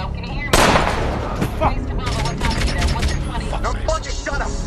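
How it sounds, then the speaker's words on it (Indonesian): Several sharp gunshots crack out in a film scene, the first loud and sudden, followed by scattered bursts amid a busy, noisy scene with some talking. "tak lama beberapa suara tembakan terdengar"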